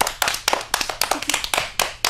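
Classroom clapping from a small group of students, sharp rhythmic claps in quick, fairly regular bursts, close and distinct with no talking over them.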